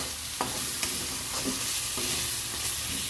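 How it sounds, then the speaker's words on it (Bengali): Spices being stirred in a hot pan for a Bengali chicken chaap, with a steady oily sizzle and a few soft scraping strokes of the spoon, close and alone. "এবার আগে একটু নাড়িয়ে নেব আমি মশলাগুলো।"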